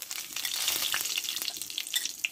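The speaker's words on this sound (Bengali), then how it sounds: "এখানে 4টে শুকনো লঙ্কা, কয়েকটা গোটা জিরে আমি এটা ফোড়ন দিয়ে দেবো।" Four dried red chillies and whole cumin seeds crackle and spit in hot oil as a tempering for a bitter gourd dish, with sharp pops over a fairly quiet sizzle and no voices.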